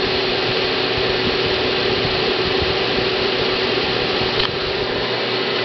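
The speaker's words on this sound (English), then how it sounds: "Hey, Jason, look at my new heater." A DeLonghi SafeHeat electric heater runs with a constant, loud fan-like whoosh of broadband noise held steady throughout, with no speech.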